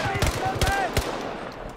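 Rapid bursts of AC9 rifle fire in Battlefield 2042 crackle through a short stretch, a quick run of close, loud shots up front and a few more scattered after, over a busy background of game noise.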